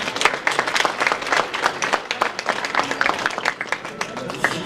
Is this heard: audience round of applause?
yes